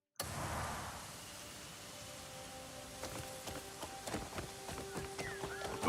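Horse hooves gallop in the video game Crimson Desert, a faint, rapid clip-clop rhythm that grows busier and more distinct in the latter half over a quiet in-game ambient backdrop.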